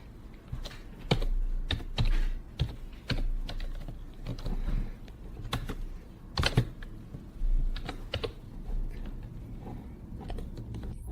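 Keys clatter on a computer keyboard as script code is entered, irregular bursts of close taps with short pauses and a few louder strikes, no voices.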